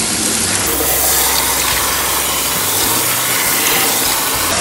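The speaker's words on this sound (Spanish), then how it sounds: "La voy a enjuagar con agua bien fría para que no me, para que salga todo" Very cold running water pours steadily over quinoa being rinsed, a continuous close gush with no talking.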